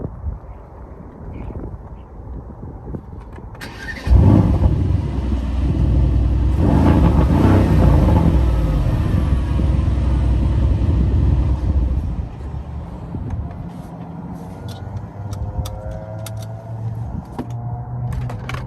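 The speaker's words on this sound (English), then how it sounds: "I'm gonna start the car." A 2021 Mercedes-AMG GLC 63 S Coupe engine cranks and catches, revs briefly with a rough roar, then settles into a steady low idle.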